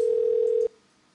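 A single steady telephone tone on a call-in line holds loud and unbroken for about two-thirds of a second, then cuts off abruptly into near silence, with a faint click at the very end.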